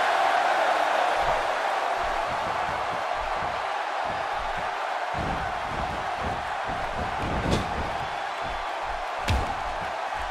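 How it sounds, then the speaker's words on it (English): A wrestling match crowd roars in a broad, sustained wash of arena noise, with a few sharp slams of bodies hitting the ring rising out of it. "by the sound of this crowd, I think they're getting what they wanted."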